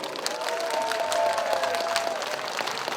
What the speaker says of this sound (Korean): 크게 박수 한번 보내주세요